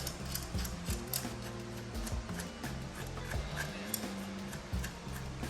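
Mechanical ratcheting and clicking from a fastener being tightened during installation of a light bar on a car, a run of close, repeated clicks and knocks with no talk.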